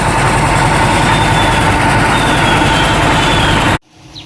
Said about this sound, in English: the guys here are just beginning to mix up the concrete so they can set our posts over here